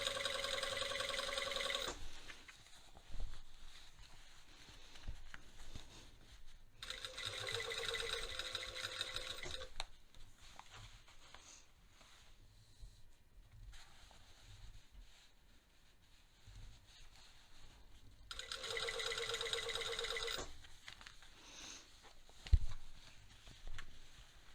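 Sewing machine stitching bias tape onto a waistband facing, running in three separate bursts of a few seconds each with quiet handling noise between, steady and close.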